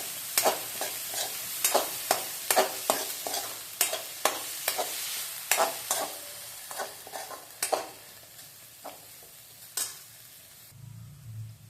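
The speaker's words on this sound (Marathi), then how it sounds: "मटकी छान परतून घ्यायची" Moth beans (matki) stirred and sautéed in a hot pan, a quick run of spatula scrapes and clinks over a soft sizzle, close up, slowing toward the end, with no voices.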